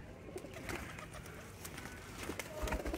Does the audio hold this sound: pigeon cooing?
yes